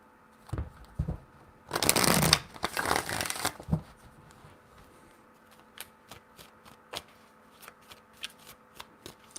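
Tarot cards being shuffled by hand, a loud burst of riffling and rustling followed by softer, scattered taps and flicks as the deck is handled, close and clear with no talking.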